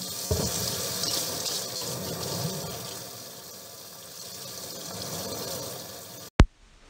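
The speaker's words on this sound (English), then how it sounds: "Wash your hands with warm water and soap for at least 20 seconds." Warm water runs steadily from a sink tap as hands are washed with soap, a soft continuous splashing flow that ends with a sharp thump.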